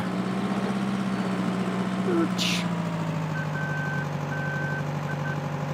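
A truck idles and backs up in Farming Simulator 2013, its reversing alarm beeping in a steady, evenly spaced pattern over a low continuous engine hum.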